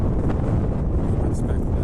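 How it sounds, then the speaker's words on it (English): Strong wind buffeting a microphone outdoors in Al Kamil countryside, a loud, steady low rumbling roar with no gaps, filling the whole moment. "a lot of wind."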